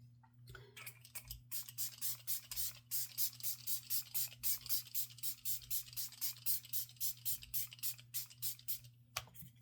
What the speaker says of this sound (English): I love this setting spray. This is my ultimate setting spray.